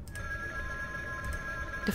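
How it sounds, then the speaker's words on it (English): A telephone rings in the Paper Bride 4 puzzle game, a steady electronic trill with a brief break between rings, clear and close. "The phone's in the pond is ringing."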